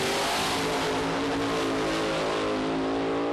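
A 1967 Chevy Nova II drag race car tuned for 1,200 horsepower roars at full throttle, a loud, dense, unbroken engine blare with no pause.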